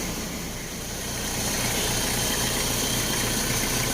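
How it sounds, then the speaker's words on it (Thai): A Toyota Mighty-X pickup's 2L diesel engine starts and rumbles steadily at idle, a low continuous knocking drone that grows slightly louder and then holds even. "เรามาลองสตาร์ทเครื่องกันดูนะครับ ชึ่งเดียวติดเลยนะครับสตาร์ทง่าย"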